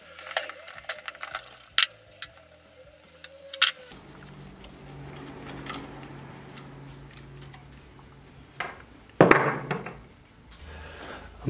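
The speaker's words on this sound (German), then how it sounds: "Am besten nehmt ihr hier so einen Gummihammer." A rubber mallet lightly taps the engine casing of a Zongshen 190cc pit bike during disassembly, giving a few sharp, close knocks early on, then a quieter stretch and one louder knock near the end.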